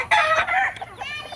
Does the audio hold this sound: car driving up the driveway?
no